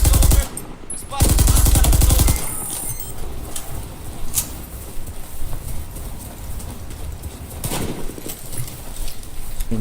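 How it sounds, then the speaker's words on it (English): Gunfire in the Battlefield video game, with loud rapid automatic bursts at the start and scattered shots and game noise afterward. "I heard a gunshot."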